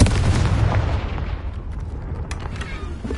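Confringo explosive spell cast in the game Hogwarts Legacy, bursting as a loud, deep boom at the start that rolls off into a fading rumble with a few small pops and crackles after.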